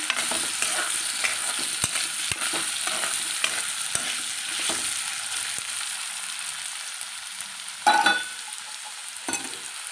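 Steady sizzling of paneer and egg frying in a pan with chili powder and turmeric, with occasional stirring scrapes and a brief louder burst of crackling near the end.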